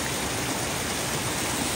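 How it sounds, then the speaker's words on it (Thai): Steady, dense rush of falling water, loud and unbroken, like a nearby waterfall with no voices over it. "ถึงแล้วจ้ะน้ำตกนี่แหละ"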